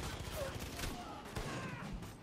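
Gunfire rattles in Far Cry 5 co-op play, bursts of rapid shots and thuds under a player's voice, fairly close and continuous.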